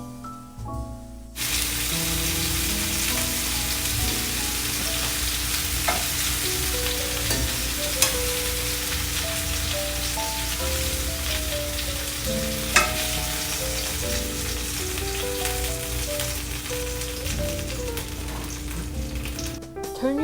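Scallops fry in a pan, a loud continuous sizzle that starts abruptly and holds steady close by, with faint background music underneath.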